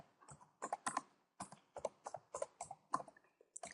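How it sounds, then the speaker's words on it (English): Computer keyboard typing, a quick run of crisp, close key clicks in short uneven bursts with brief pauses, alone without talk. "I will type the website, and here I'm going to type for the homepage"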